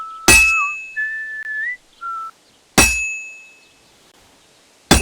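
Whistled notes in Kingdom Come Deliverance 2 weave between three sharp hammer blows on a sword at the forge, each strike a bright ringing clang that decays slowly, the whistling short and melodic before the second blow.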